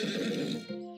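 A horse in a video game gives a single short neigh, a bright whinny that drops into a fading tonal tail, close and clear with no other sounds.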